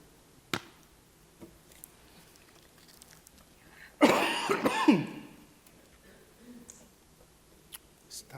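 A single harsh cough bursts out about midway through an otherwise quiet stretch of a church sermon, with a few faint clicks and knocks around it.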